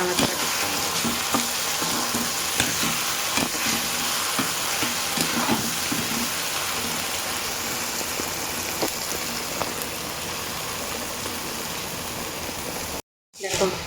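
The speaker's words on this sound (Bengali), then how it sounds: "পোস্ত দেওয়ার পরে বেশ কিছুক্ষণ ভালো করে একসঙ্গে সব ভেজে নিতে হবে যতক্ষণ না তেলটা ভালো করে না ছাড়বে" Potatoes and poppy seed paste frying together in oil for aloo posto, a steady close sizzle with light stirring scrapes throughout, cut by a brief silence near the end.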